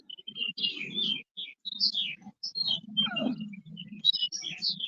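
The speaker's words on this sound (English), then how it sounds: "Got a lot of birds, man" Small birds chirp and tweet repeatedly around backyard bird feeders, a busy overlapping chorus of bright calls with a low rumble of background noise beneath.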